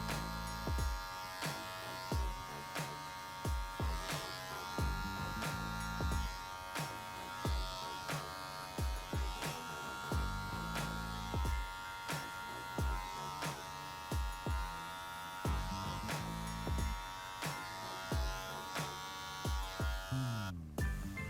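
Electric hair clippers with the zero guard open detail the corners of a low fade on coily hair, giving a close, steady buzz broken by short rhythmic strokes throughout, with no talking.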